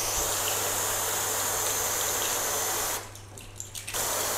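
Water flooding over ceramic-coated car paint during a rinse, a steady broadband hiss and splash that briefly thins out about three seconds in before returning, with no talking.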